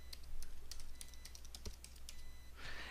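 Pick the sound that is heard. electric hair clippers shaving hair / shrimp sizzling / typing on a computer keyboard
typing on a computer keyboard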